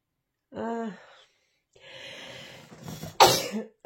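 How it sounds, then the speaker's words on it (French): A short voiced gasp, then a breathy intake building up, ending in one sharp, explosive sneeze close to the microphone. "je vais éternuer."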